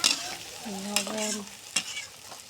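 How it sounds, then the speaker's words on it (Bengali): Spice masala with salt for Eid chotpoti sautéed and stirred in a pan, with gentle sizzling, a brief squeaky scrape and a couple of sharp spoon knocks. "সুন্দর করে মশলাটা এখন কষিয়ে নিলাম।"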